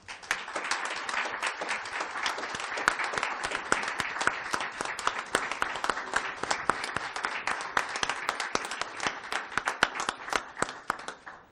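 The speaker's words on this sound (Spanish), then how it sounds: "Y les pido un fuerte aplauso para él." An audience at a book presentation at the Fundación Universitaria Española gives sustained, steady applause, a dense crackling of many hands clapping evenly at a moderate distance for over ten seconds.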